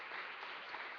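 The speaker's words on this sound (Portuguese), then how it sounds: "Vamos aplaudir o Senhor com mais intensidade que Ele merece." Brief burst of congregation applause during a church service, a faint, steady wash of clapping hands lasting about a second.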